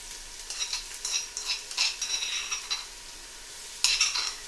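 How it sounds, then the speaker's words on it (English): Garlic-ginger paste frying with onions for Punjabi aloo gobhi, stirred in the pan with repeated scraping strokes over a soft sizzle, close and without talk. "Now I'm just going to fry that together."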